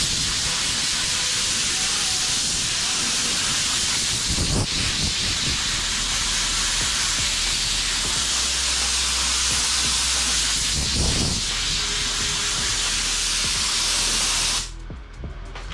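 Air blown onto a 3D-printed part, a steady loud hissing rush lasting many seconds with a couple of stronger bursts, heard alone before stopping abruptly at the end.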